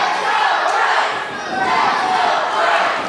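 A tournament crowd erupts in loud cheering and shouting, a dense roar of voices that dips briefly midway and then swells again, heard close and filling the whole moment.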